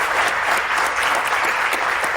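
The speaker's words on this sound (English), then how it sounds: "give it a round of applause" A live podcast audience at an industrial-organizational psychology conference breaks into steady, dense applause, continuous and fairly loud throughout with no speech over it.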